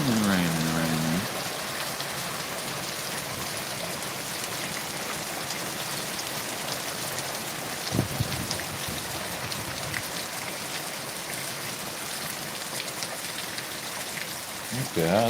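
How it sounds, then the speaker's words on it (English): Continuous rainfall hisses evenly in the background while a person's voice briefly sounds at the start and again at the end, with a soft bump midway. "Yeah, it is raining."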